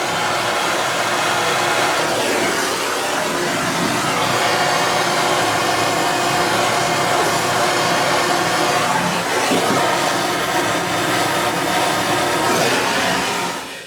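Heat blower running steadily and loudly, warming a sink drain nut on a bathroom wall beside wallpaper, a continuous whooshing roar throughout with slight shifts in tone as it moves, ending abruptly.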